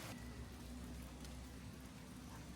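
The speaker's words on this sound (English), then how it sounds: "It was only a light drizzle" A light drizzle falls in a Thai jungle, making a soft, steady hiss of rain with a low background hum throughout.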